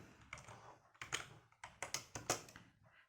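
Keys clatter on a computer keyboard as a short value is typed in, a run of quick, close taps in small irregular bursts with a few brief pauses, no voices.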